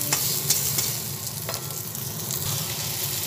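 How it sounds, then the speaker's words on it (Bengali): Spices with turmeric and Kashmiri chili powder frying in a pan, a continuous close sizzle with a few sharp scraping stirs of a spatula. "আবার ভালোভাবে একসঙ্গে সব নাড়াচাড়া করে নিচ্ছি"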